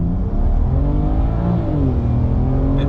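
An Alpina car with a BMW N54 engine and XHP transmission flash accelerates hard, the engine note climbing steadily and loudly from inside the cabin, then dipping briefly as a gear shifts before rising again.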